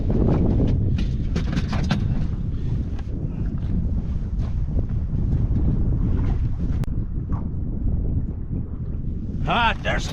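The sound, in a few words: wind blowing outdoors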